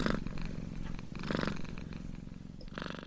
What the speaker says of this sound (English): When cats purr, people are happy